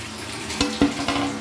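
Tamarind water poured into a pot of chicken biryani as it cooks: a steady wet hiss and sizzle, with a few sharp metallic clinks of utensil against the pot.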